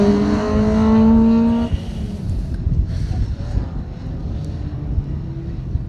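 A Ford Escort rally car with a 2.4 litre engine, on a rally stage, roars past near and loud with a rising engine note, then fades into rough rumbling and gravel noise as it moves away.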